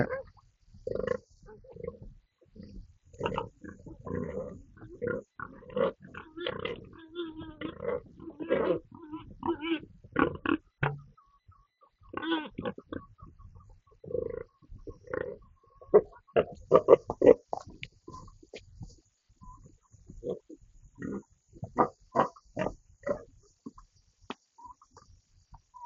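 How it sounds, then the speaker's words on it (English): Pig grunting and snorting in irregular bursts at a farm in Costa Rica, close to the recorder, with quiet gaps between grunts and someone talking at times. "Pig's trying to bite me."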